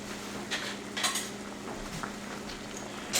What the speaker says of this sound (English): And then we're going to take our lids.